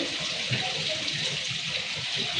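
Soaked clothes are washed by hand in water, giving continuous splashing and sloshing close by while someone talks over it.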